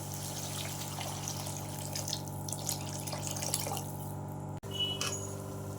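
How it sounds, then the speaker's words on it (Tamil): Water is poured into a pan of sautéed vegetables for rava kichadi, giving a steady close hiss and sizzle with light splashing that runs throughout and cuts off briefly near the end. "நம்ம அதில் கொஞ்சம் தண்ணியை சேர்த்துக்கலாம்"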